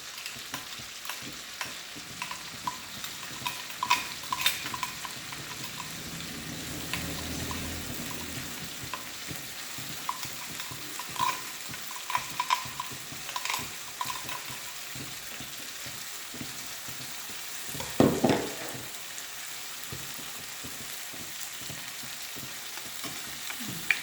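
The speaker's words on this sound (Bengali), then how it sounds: "এবার আমি মশলাটা দিয়ে দেব। এই যে মিক্সিতে যে মশলাটা পেস্ট করে রেখেছি সেটা দিয়ে দেবো।" Katla fish frying in a pan as a ground spice paste is added, with a continuous sizzle and occasional stirring scrapes, close and steady throughout.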